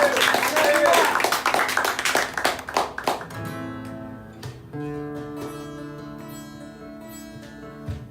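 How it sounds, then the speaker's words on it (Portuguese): A church congregation applauding during a service, a dense wash of clapping that fades after a few seconds into sustained keyboard chords, with voices mixed in. "aplaudir o nome dele novamente"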